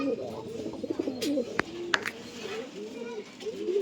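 King pigeons coo softly in low, throaty bursts, close by, with a couple of sharp clicks and faint rustling in the background.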